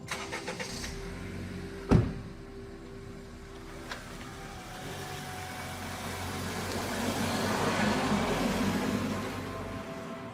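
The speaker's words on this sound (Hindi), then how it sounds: "अगले दिन कविता, निधि और शिल्पा अपनी गाड़ी से नीमा गांव के लिए रवाना हो गए।" A car engine idles steadily after a sharp thump near the two-second mark, the rumble swelling slightly toward the end as the vehicle sets off for a village, with no voices.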